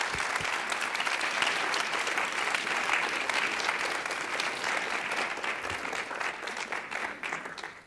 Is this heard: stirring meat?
no